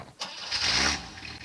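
Starter cranking on a 1965 Rambler American just after an exhaust and muffler replacement, a short mechanical whir rising into a rough catch, close and moderately loud.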